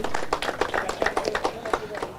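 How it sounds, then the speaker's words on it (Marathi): An audience applauds at a cricket premier league trophy inauguration, making steady, fairly close clapping with many quick overlapping hand claps. "सर्वांनी जोरदार टाळ्या वाजवा मित्रांनो"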